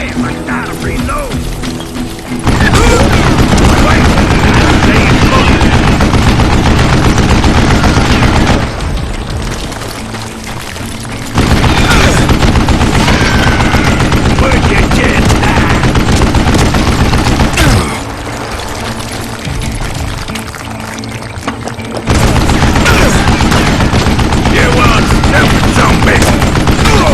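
Gunfire in the Call of Juarez Gunslinger video game, with loud bursts of shots in several long stretches broken by quieter pauses, dense and mechanical-sounding throughout.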